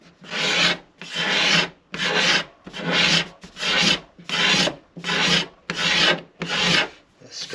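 A hand scraper works across a wooden guitar plate in nine regular rasping strokes, each a close, loud scrape separated by brief pauses, with no voices.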